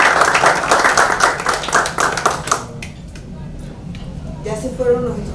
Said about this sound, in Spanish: los que están, un aplauso a todos nuestros